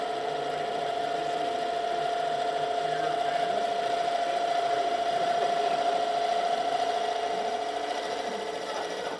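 A Ray Deyo spiral tool spins and cuts into a turning workpiece, giving a steady loud whirring drone with a constant tone and a faint rasping texture throughout.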